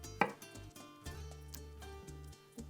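A knife slices through small multicoloured tomatoes on a board, giving a sharp first cut followed by several soft, irregular thuds close up in a quiet kitchen.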